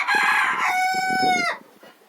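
A chicken in a coop in a rural Ukrainian home lets out a single loud, drawn-out crowing call close by, with a few soft clucks trailing off at the end.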